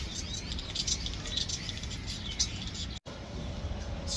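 A flock of birds chirps in light, scattered tweets over a steady outdoor hiss. The sound is faint and distant, with a brief dropout near the end.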